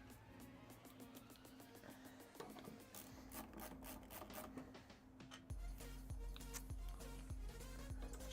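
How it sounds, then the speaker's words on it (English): Bolts are started by hand on a PC build with a 4090 graphics card, giving quick rhythmic scraping and ticking turns. Low thumps and a steady hum run underneath, and the sound stays faint and close with no speech. "Just getting all these bolts started, and then we'll tighten them all down."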